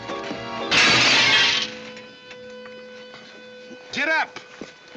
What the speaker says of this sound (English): You busted Lily's looking glass.